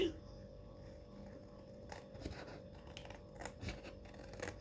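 Scissors snip through thin 1 mm cardboard for a small accordion-bound mini album, giving a series of soft, close crunching cuts over a quiet room.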